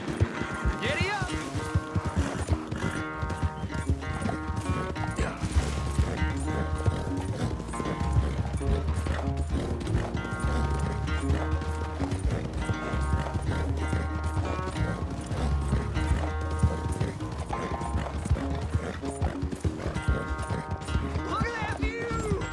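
Horse hooves clip-clop at a gallop in the Red Dead Redemption 2 video game, a steady rhythmic pounding running throughout beneath game music and a voice talking.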